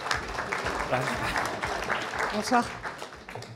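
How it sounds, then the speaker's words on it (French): An audience at the TOP250 awards ceremony applauds as a video game industry guest is welcomed, moderately soft, continuous clapping that runs throughout while a voice speaks over it. "que l'on peut applaudir."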